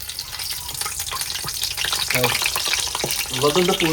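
Food crackles and sizzles in hot oil, close and continuous, with a voice briefly talking over it near the end.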